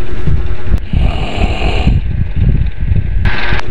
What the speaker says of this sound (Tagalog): super lakas ng hilik niya